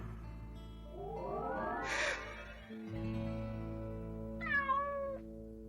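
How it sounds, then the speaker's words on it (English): A cat meows in an animated series, with two long, drawn-out meows close up over a steady background hum. "She was the cat we owned."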